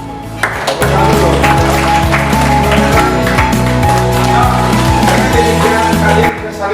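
Classroom students clapping for a classmate, loud close clapping mixed with scattered sharp taps and a tonal background, steady through most of the moment before fading.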